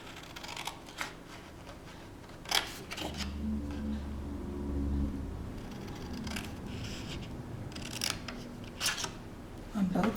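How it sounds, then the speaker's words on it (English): Scissors cut card tabs along vertical lines, a few quiet close snips and paper rustles over a low background hum, with faint handling in between. "There's these 2 vertical lines, and we're going to cut right up the vertical lines."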